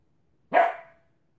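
A single sharp dog bark rings out close by, fading quickly into silence.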